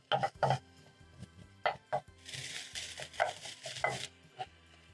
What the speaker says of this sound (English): Use a spatula and break down the mincemeat as it's cooking.